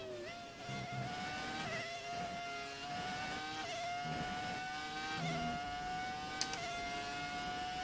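A Formula 1 car engine in the F1 2019 racing game, revving near 19,000 rpm with a high, steady whine that climbs through several gear changes, ending with brief clicks.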